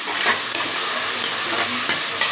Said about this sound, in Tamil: அதையும் இதில் போட்டுக்கலாம் தக்காளி நல்லா வதங்கட்டும்